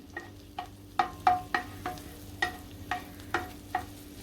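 Garlic sautéing in butter in a pan, a low background sizzle punctuated by about ten distinct spoon taps and scrapes at an uneven rhythm, close and clear.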